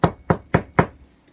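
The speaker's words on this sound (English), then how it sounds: "there was a knock on the door." Four sharp knocks on a wooden door in a steady, quick rhythm, close and fairly loud, then quiet.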